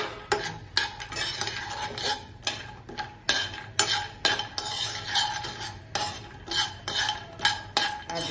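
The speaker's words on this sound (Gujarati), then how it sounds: "ઘીમાં પેલા સોતે કરીશું આને ડ્રાય ફ્રૂટને" Almonds, cashews and walnuts are stirred in ghee in a pan while making Gujarati sukhadi, with repeated close metallic clinks and scrapes of a spoon against the pan in an irregular rhythm and no talking.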